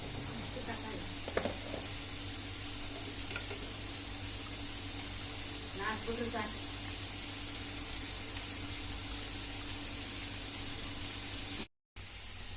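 Onions frying in a pan for Chettinad pepper chicken masala give a steady, even hiss that runs without a break, with a few faint clicks and murmurs scattered over it and a sudden brief cutout near the end.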